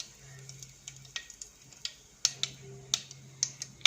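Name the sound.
mustard seeds and curry leaves sizzling in hot oil for rasam tempering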